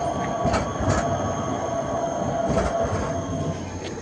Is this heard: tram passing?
yes